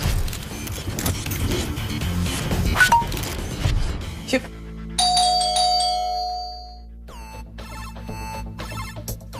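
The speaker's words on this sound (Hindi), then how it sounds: "घंटी बज रही है, उठ के खोल नहीं सकता तू?" An electronic doorbell in a home chimes through a bright ding-dong melody, rising over earlier muffled talk and noise, ringing clearly and then repeating with a fresh chime.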